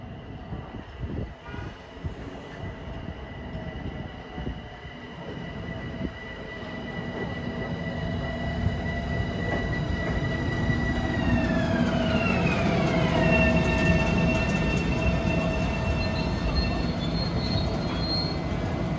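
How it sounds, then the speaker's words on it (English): A 12-car Long Island Rail Road M7 commuter train rolls into New Hyde Park station, its rumble building as wheels squeal with long, high-pitched tones that bend downward while it slows. "Approaching westbound at New Hyde Park, he'll be making a stop, is train 1715 from Huntington to New York"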